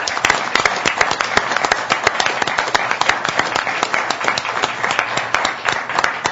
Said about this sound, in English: I think these young people deserve a big round of applause